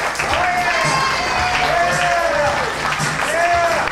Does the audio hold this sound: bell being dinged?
no